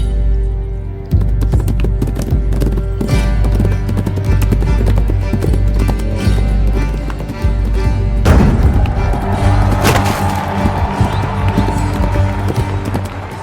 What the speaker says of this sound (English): He hangs off the horse as it rides on past.